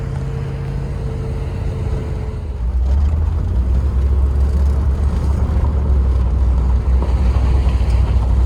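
A 1988 Range Rover Classic SWB engine runs steadily and close. Partway through, the drone deepens and grows louder as the truck pulls away. No talking.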